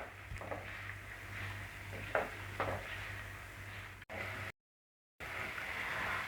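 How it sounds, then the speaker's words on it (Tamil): Onions sautéing over low heat in a pan for chicken chukka, a soft steady sizzle with a few scraping stirs, faint and close, briefly cut to silence near the end. "வெங்காயம் நல்லா கோல்டன் ஃப்ரை ஆகிற வரைக்கும் வதக்கி விட்டுட்டே இருங்க"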